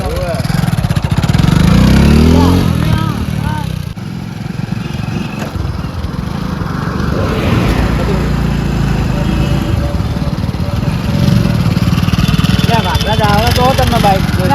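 A motorcycle engine runs steadily and close by for the whole stretch, with a rough mid-pitched drone, while people talk loudly over it.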